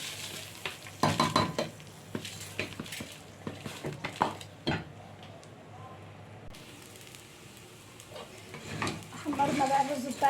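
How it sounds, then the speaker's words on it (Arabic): Rice frying in oil and ghee in a pot, a steady sizzle with scattered stirring scrapes and clinks of a utensil against the pot, close and moderately loud throughout. "حمرنا بقى الرز بتاعنا، نحمره بالشكل ده."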